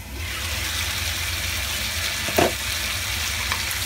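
Chicken pieces pan-fry until golden in a covered pan, giving a steady, even sizzle throughout with one brief clink near the middle and no talking.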